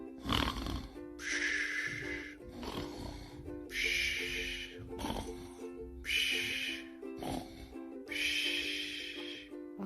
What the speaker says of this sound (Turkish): Ama uyudu. Horladı bile.